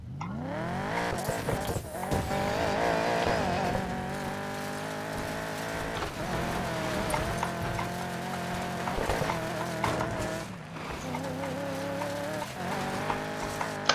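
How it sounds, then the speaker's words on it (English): A car engine revs through repeated upshifts and downshifts in the racing game Need for Speed Payback, a loud, continuous whine that rises and drops with each gear change, with occasional tire squeal. "A lot of upshifting, downshifting from what I've been doing right now."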